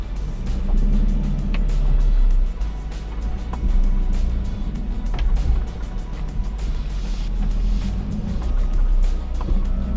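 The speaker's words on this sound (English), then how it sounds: "I'll lower the car down and we'll take a little drive." A Nissan 350Z (Z33) with aftermarket exhaust work drives along a road, its engine giving a steady low rumble with rising and falling swells and occasional sharp ticks and rattles over about ten seconds.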